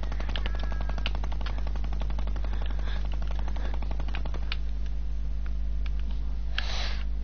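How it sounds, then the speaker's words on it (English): Rapid bursts of video game gunfire, a fast rattling run of shots followed by scattered single cracks over a steady low hum. "I hear you shooting. But what are you shooting at?"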